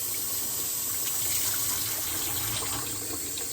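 Water running from a kitchen tap into a sink in a home workshop, a steady continuous gush with a bright splashing hiss, close by and uninterrupted, with no talking.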